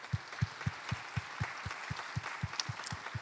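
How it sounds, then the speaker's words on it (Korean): Audience members in a church service clap in unison, a slow, even beat of about a dozen distinct claps, fairly quiet and close, with faint room noise between them. "우리 한번 잠깐 박수 한번 하겠습니다"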